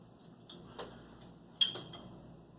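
A few soft, quiet taps of drumsticks on the harder neoprene side of a double-sided practice pad, dull and muted, with one slightly sharper hit among them.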